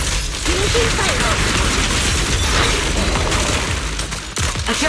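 Dense, continuous gunfire and booming blasts from the video game Zenless Zone Zero fill the scene loudly, with mechanical clatter and a few sharper bursts near the end.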